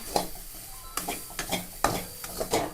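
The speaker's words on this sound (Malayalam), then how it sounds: "നമ്മളിതാ തേങ്ങ വറുത്തെടുക്കണേ" Grated coconut roasting in a pan, with several short scraping stirs and soft sizzling bursts at close range, and no talk.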